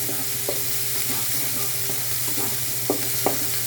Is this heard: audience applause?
no